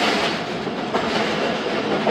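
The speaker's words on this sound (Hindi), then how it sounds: "ये हमारी ट्रेन जा रही है" The Thal Express rolls along mountain rails, a loud, continuous rumble and rattle of carriages heard up close, with a steady wash of wheel and wagon noise throughout.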